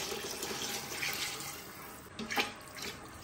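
Water poured from a glass into a cooking pot of browned chicken for rice, a steady close splashing trickle with a brief louder gush near the end, no talking.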